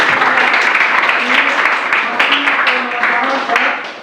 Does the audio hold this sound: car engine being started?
no